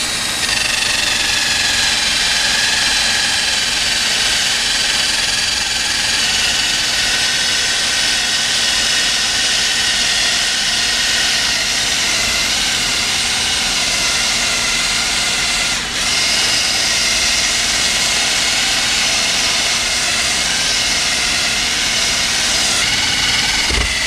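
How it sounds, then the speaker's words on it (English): A rubber eraser wheel on a power tool stripping decals from a 1990 Jayco camper gives a loud, unbroken high whine that holds steady throughout, close up and alone. "we're going to go ahead and use this rubber wheel to take these decals off"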